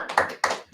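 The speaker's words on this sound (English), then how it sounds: "Thank you very much for the applause." Three sharp, separate hand claps ring out nearby at a school broadcasting-program show, spaced evenly within a fraction of a second, each a quick bright slap with a short decay and no voices.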